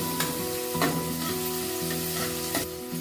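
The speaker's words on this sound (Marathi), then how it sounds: "तेल गरम झाल्यानंतर आपण त्याच्यात कांदा टाकलेला आहे" Onion fries in hot oil in a pan for pasta, a close, steady crackling sizzle with a few sharp spoon scrapes against the pan and a faint tonal hum beneath.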